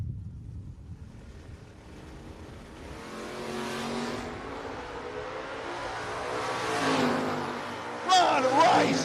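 A 1972 Chevy Camaro and a 1974 Nova drag racing in a no-box 660 shootout, a rising engine roar building over several seconds with wind rush, a sharp louder burst near the end, and an announcer talking throughout.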